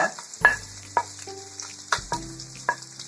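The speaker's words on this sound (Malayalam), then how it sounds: "മുളക്, ഇങ്ങനെ വഴറ്റിയെടുക്കാം." Onion, ginger, garlic, fenugreek and chili sautéing in a pan for onion chutney, an even sizzle broken by several sharp spoon knocks and stirring scrapes, close up with no voices.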